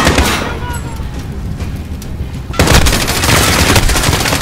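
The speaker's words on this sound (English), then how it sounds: "Suppress that MG and push up!" Machine gun fire in the Call of Duty: Modern Warfare campaign, rapid loud bursts that thin for a moment and then surge into a heavier continuous volley, close and intense.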